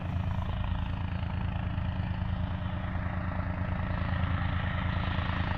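Continuous loud engine drone of a Super Flying King model airplane on its maiden day as it comes in for another landing, a steady buzzing propeller hum close by with slight pulsing rhythm.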